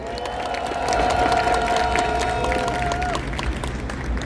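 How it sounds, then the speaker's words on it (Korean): A crowd claps and cheers in sustained applause at a citizens' rally in Daejeon, a dense roar of many hands with a tonal hum running through the middle. "우리 경찰분들에게도 고마움의 박수를 드리면 좋겠습니다."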